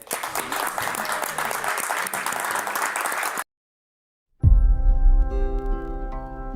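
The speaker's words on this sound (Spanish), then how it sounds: "Vamos a aplaudirlos." Crowd applause, a steady wash of clapping for about three and a half seconds, cuts abruptly to silence, followed by a different loud tonal sound with a deep impact.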